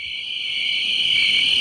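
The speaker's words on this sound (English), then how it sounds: "Crickets." Crickets chirp in a continuous high, even drone with a faint low background underneath and no voices.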